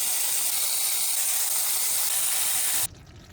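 Engine oil from a Porsche with a failed timing system pours out of the oil pan into a drain bucket as a steady rushing hiss, which cuts off abruptly near the end.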